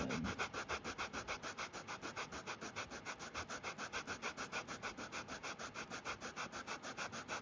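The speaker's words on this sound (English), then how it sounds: "we're going to get a good sand on this" Leather wallet edges being sanded with 120 grit sandpaper: steady, rapid back-and-forth rasping strokes in an even rhythm, close and fairly quiet, with no talking.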